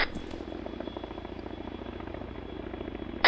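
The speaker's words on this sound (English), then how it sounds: "I hear the chopper coming in from the southeast" Helicopter rotor thumping steadily throughout in the military game ARMA 3, a continuous pulsing engine drone with fast regular blade beats, moderately loud and alone without voices.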